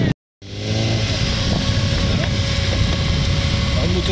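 A motorcycle engine roars up after a brief silence, holding a loud, rough, continuous drone close by, during a motorcycle test-ride event.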